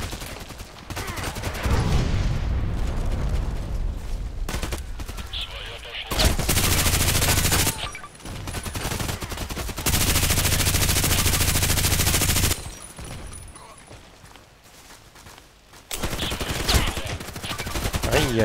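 Automatic and burst gunfire in the online shooter Contract Wars, loud bursts of shots coming in clusters with short gaps between them, mixed with game sounds.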